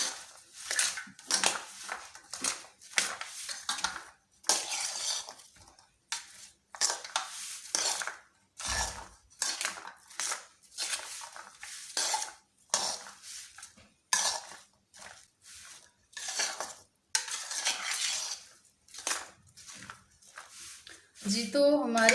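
A spoon clinks and scrapes repeatedly in a bowl while fruit chaat is mixed with chaat masala, bursts of tapping and rustling separated by short pauses.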